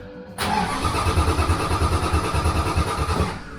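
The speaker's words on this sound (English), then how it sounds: "Alright, we got the starter in. New starter in. Power's back on. Let's see the difference." An Austin Healey engine is cranked by a new high-torque starter, a sudden onset followed by a fast, strong, even rhythmic churning that keeps going steadily and close without catching.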